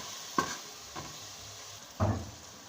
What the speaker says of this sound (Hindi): मिक्स करते हैं।